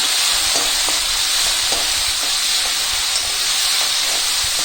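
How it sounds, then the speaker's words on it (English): Seasoning frying in hot oil in a pan for manathakkali (black nightshade) curry, a loud continuous hiss and sizzle with small pops scattered throughout, no talking. "Now let's add into the oil directly. Now this is going to pop"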